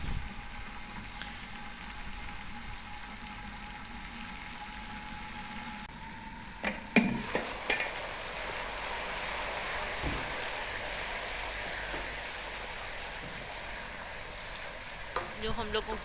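Onions fry golden brown in a pan for beef yakhni pulao, a steady close sizzle throughout with occasional stirring clatter and scrapes, no talking.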